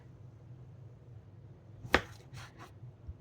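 One sharp, close knife cut into tomatoes on a board, then a couple of softer follow-up slicing sounds over a low, quiet background hum.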